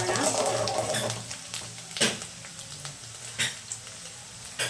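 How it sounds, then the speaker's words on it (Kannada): Garlic fries in a pan with a soft steady sizzle, broken by several sharp clinks and scrapes of a spoon stirring against the metal, close and moderately quiet. "ಹಾಗೆ ಬೆಳ್ಳುಳ್ಳಿ, ಇದೊಂದು ಸ್ವಲ್ಪ ಚೆನ್ನಾಗಿ ಫ್ರೈ ಮಾಡೋಣ."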